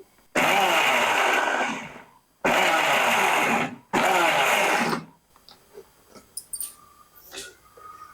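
A mixer grinder whirs loudly grinding a moong dal chutney in three bursts of a couple of seconds each, separated by short pauses, then quiet rattling.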